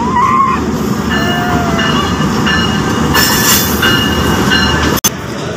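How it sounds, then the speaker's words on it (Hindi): A train pulls up at a railway platform, a loud steady rumble of wagons and rolling wheels with faint squealing tones over it and a sharp metallic clank near the end. "ट्रेन आ गई"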